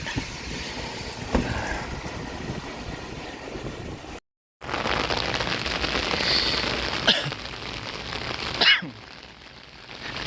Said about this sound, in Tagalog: lumala yung ulan, lumalakas lalo